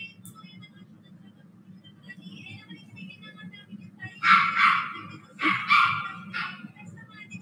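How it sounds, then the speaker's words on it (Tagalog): A dog somewhere in a home barks in two short clusters of sharp yaps, moderately near, over a steady low hum of background noise. "May aso."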